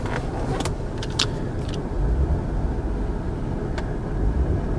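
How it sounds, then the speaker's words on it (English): Jaguar car engine idling nearby in a steady low rumble, with a few brief clicks and light rattles on top. "You can hear this Jaguar roar."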